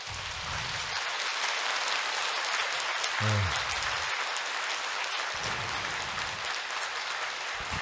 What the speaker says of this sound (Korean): 박수 소리가 커가지고